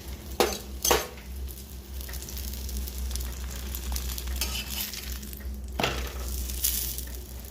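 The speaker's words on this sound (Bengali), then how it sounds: "মোগলাই পরোটা ভাজবো" A Mughlai paratha fries in oil in a pan with a steady close sizzle, broken by a few sharp clinks and scrapes of a utensil against the pan.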